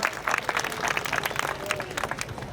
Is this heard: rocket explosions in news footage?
no